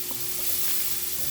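Diced onions sizzle in a hot pan as they are sautéed for a chicken Marsala cream sauce, a steady close frying hiss with light stirring, no voices.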